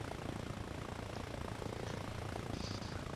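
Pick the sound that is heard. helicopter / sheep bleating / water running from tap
helicopter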